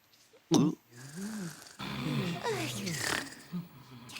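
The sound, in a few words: snoring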